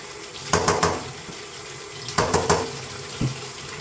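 Meat is rinsed under a running kitchen tap, with water splashing in bursts near the sink, each pause followed by another gush and a short final splash.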